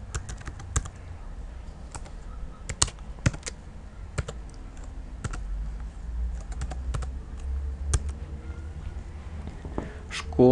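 Fingers type on a computer keyboard, scattered quick clicks and occasional louder key taps over a faint background hum, close and irregular in rhythm.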